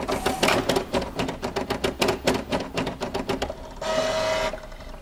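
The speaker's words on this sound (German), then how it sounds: "Wenn man die Klappe aufmacht, sieht man hier hinten den Scannerkopf, und der ist verantwortlich für dieses Geräusch." A scanner head traveling inside a scanner/printer, a rapid series of mechanical clicks and ticks followed by a short whirring motor buzz, close up with no talk.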